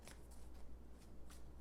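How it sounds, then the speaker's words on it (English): Tarot cards shuffled by hand in a few quick riffling bursts, soft papery flutters close by with brief pauses between them. "two more shuffles, and we'll go a layer deeper."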